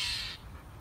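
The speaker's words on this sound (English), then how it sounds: "So the bird won't leave the dog, or the Maya." An angry bird lets out a single short, harsh caw while harassing a Labrador dog, loud and close at the start before fading into quiet background noise.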